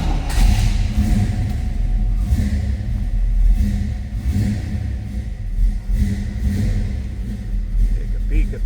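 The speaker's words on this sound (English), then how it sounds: "All right, let's fire it up." A 1969 Chevrolet Camaro Z/28 V8 fires up and revs. A loud, steady low rumble swells in repeated throttle blips and runs nonstop, close to the listener.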